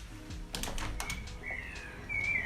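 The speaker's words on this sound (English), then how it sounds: "and hear the birds sing." Birdsong drifting in through an open window of a student's home in Würzburg, Germany: a few thin, high chirps and a brief trill rise over quiet indoor clatter, faint and somewhat distant.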